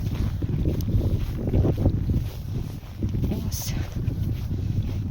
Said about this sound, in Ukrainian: Появився такий прям досить сильний вітер.